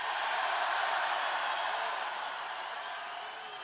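A packed rally crowd at a Trump Keep America Great event in South Carolina applauds and cheers in a dense, steady roar of clapping that slowly tapers off toward the end.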